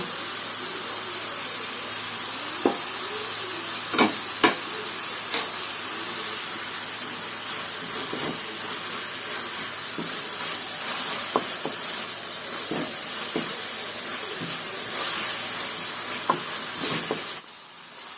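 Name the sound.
frying masala with chili sauce in a pan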